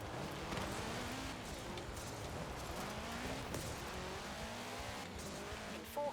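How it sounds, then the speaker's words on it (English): A muscle car driven on a world map in a video game, its engine droning steadily throughout with tire squeal and skidding sounds over it, fairly loud and continuous, with a brief navigation voice prompt. "Oh, this is a nice car to drive."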